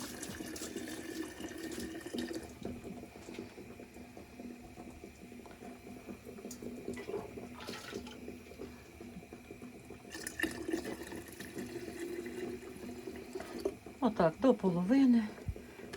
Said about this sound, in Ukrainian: Стараюся попадати водою на лопатку.